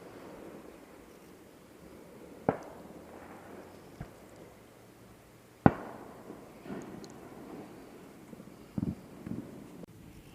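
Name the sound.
Fourth of July fireworks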